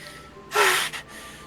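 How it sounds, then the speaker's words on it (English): One sharp inhale sucked through the teeth in Doki Doki Literature Club, a sudden close hiss lasting about half a second with a brief trailing breath, over quiet background. "A sharp inhale, like someone is sucking the air through their teeth"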